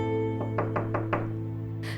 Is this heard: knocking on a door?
yes